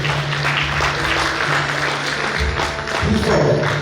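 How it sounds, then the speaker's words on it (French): Graduation ceremony audience in a Haitian university stadium keeps up a sustained round of applause, an even, dense clatter of hands over a low electrical hum from the public address system. "Applaudissez encore une fois,"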